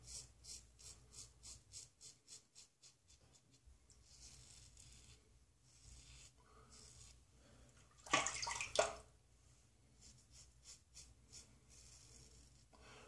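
A safety razor with Personna blades scrapes across the grain over skin lathered with a vintage Williams shave stick soap, giving a quiet series of rhythmic rasping strokes, then a brief louder rinse or clatter near the middle.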